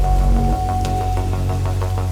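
Heavy rain with cracking lightning in an animated forest story, a steady loud wash of rainfall with a low rumbling bed and short sharp bursts recurring every fraction of a second throughout.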